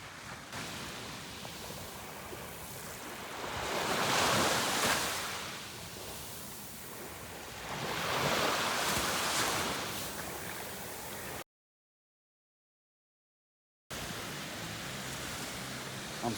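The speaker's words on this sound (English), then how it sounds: "we went down to Panama City Beach, got our feet in the sand, and watched some beautiful sunsets" Ocean surf on the beach at Panama City Beach, a steady broadband wash that swells twice into the rumble of breaking waves and then eases back, with no voices and a brief silent gap near the end.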